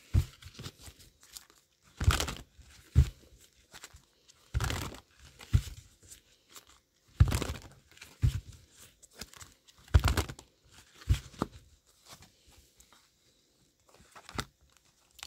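Tarot cards riffled and shuffled by hand in repeated bursts of crisp papery crinkling and snapping, close and moderately loud, with short quiet gaps between each shuffle and no talking.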